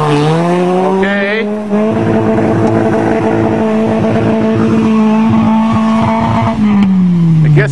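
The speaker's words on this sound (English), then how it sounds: "he hit the rev limiter too soon" A Nissan 200SX engine revving hard and holding at a high, flat pitch as it bounces off the rev limiter on a muddy hill, loud and close with tire noise.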